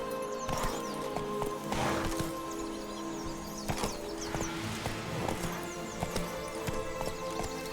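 Roach the horse gallops in The Witcher 3 with a steady clip-clop of hooves, a snort or whinny, and some game sounds layered over it, at moderate loudness throughout.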